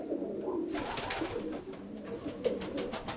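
A pair of pigeons coos at close range, soft repeated low calls over a faint background murmur.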